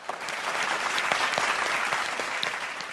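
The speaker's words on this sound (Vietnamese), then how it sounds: "Một tràng vỗ tay cho mẹ Khánh" Studio audience applause at a Vietnamese matchmaking TV show, a dense steady wash of many hands clapping that holds at an even level for the whole stretch.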